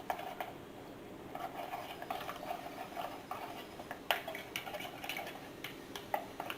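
Spoon or stirrer working through melted soap base in a container during melt-and-pour soap making, giving soft repeated clinks and scrapes at close range with no talking.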